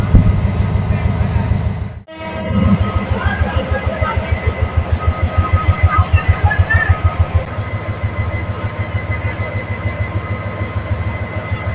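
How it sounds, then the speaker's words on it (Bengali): A train pulls out of Chattogram railway station with a steady, loud rhythmic clatter of wheels over rail joints, the beat running evenly through the platform noise after a brief dip. "এই যে ট্রেনটি ছুটতে শুরু করলো"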